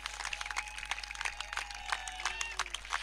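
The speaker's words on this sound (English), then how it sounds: "Let's have a big applause for all of us." Applause at a blind cricket post-match presentation for the Nagesh Trophy national T20 tournament, scattered sharp claps from a modest crowd, fairly faint, with voices and a steady low hum underneath.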